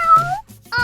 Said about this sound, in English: Cats are one of the most popular house pets, probably because they're so nice.